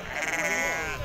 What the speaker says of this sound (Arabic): خروف زين هذا الله يسخر